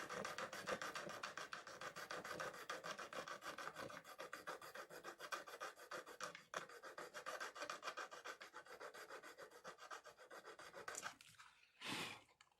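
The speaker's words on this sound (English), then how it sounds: "I'm just going to do a little bit of light filing here just to clean up this cut." A hand file rasps in quick repeated strokes across the cut edge of a Wii RVL-CPU-01 motherboard, a close, continuous scraping that stops near the end, followed by a short, louder rub.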